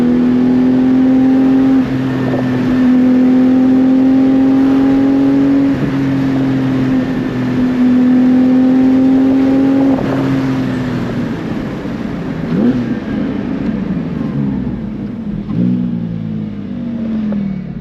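Porsche Cayman GT4 engine accelerating hard on an open road, a loud, close, continuous roar climbing through the revs in steady pulls, with brief gear-change dips and a rougher, lower growl near the end.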